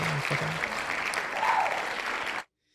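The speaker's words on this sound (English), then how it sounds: "I guess I'll give myself a round of applause" A round of applause fills about two and a half seconds with steady, even clapping, then cuts off abruptly into silence.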